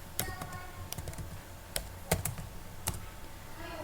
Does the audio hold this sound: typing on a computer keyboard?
yes